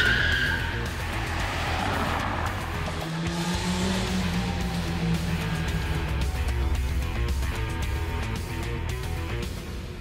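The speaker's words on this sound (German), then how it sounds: "Vor Clubs und Diskotheken ziehen Männer ihre PS-Show ab." Cars on a street at night outside clubs and discos on the Cologne ring roads, engines revving and roaring in a horsepower show, with a skid-like squeal, loud and continuous throughout with traffic noise.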